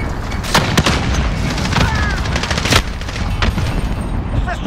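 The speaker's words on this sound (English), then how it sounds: "Enemy cruise missile incoming." Cruise missile strike in Call of Duty: Modern Warfare, a loud barrage of sharp booms and blasts with rumbling, crackling debris, several hard impacts in quick succession over a constant battlefield din.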